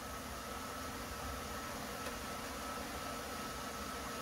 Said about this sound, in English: That engine sounds pretty good.